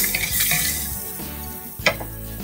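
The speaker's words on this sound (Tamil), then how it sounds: "இப்போ நம்ம கொஞ்சம் தேங்காயை போட்டு லைட்டாக 2 திருப்பி திருப்பிக்கிறோம்" Grated coconut is lightly roasted and stirred in a pan for eggplant pitlai, with a soft continuous sizzle and scraping strokes, one brief louder clatter of the utensil near the end, no voices.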